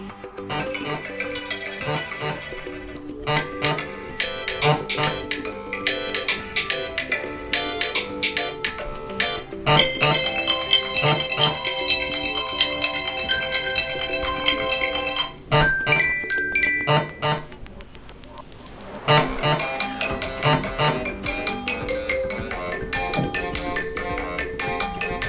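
iPhone 12 mini ringtones previewed one after another: a series of bright, electronic melodies and chiming tone patterns, each playing for a few seconds before switching abruptly to the next, loud and close with no talking.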